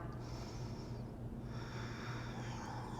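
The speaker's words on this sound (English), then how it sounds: "Breathing in and out." A person breathing in and out during a yoga session, with two drawn-out airy breaths over a low steady hum, close and fairly quiet.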